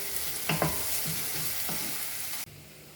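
Ingredients for ragi upma sizzle steadily in a hot pan, with a couple of brief stirring knocks near the start, then the frying noise drops sharply in the last half second.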